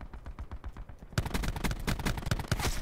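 Rapid bursts of automatic gunfire in Call of Duty: Black Ops 4 multiplayer, growing louder and denser halfway through, with sharp repeated shots over continuous game noise.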